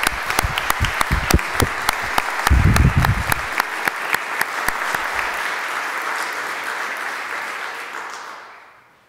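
Enthusiastic audience applause after a lecture, a dense patter of many hands clapping with a few sharp louder claps, fading out toward the end.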